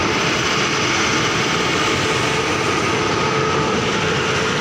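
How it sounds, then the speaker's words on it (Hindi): Swatantrata Senani superfast express train hauled by a WAP-7 electric locomotive, a loud, steady broadband rumble and roar of the moving train that holds constant throughout with no talk. "ये लोकोमोटिव है, वेब 7 के साथ में चलती है स्वतंत्रता सेनानी।"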